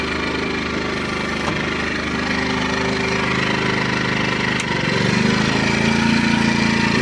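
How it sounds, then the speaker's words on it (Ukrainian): A 900 W electric heater is switched on while powered from a generator, and the generator's steady engine drone deepens and strengthens as it takes the load, continuous and fairly loud with no talk. "У нас є такий обігрівач. Ось Його потужність 900 Вт."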